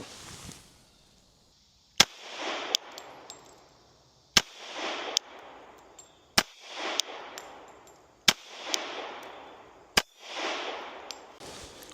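Glock 30 MOS pistol firing 45 Super rounds at a target, five or six sharp, loud shots spaced about two seconds apart, each followed by a ringing echo and a burst of noise.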